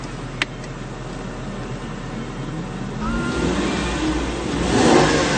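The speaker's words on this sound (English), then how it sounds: "we'll give it a bit of a rev for you now" A Mercedes-Benz S350 engine idles quietly, then is revved, the sound rising gradually and swelling to a louder peak near the end.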